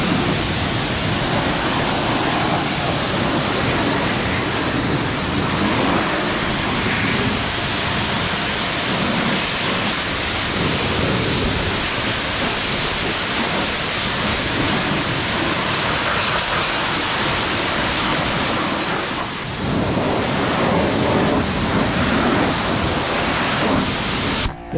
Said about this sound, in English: we're going to get pretty much everything on here wet, inside and out, with the pressure washer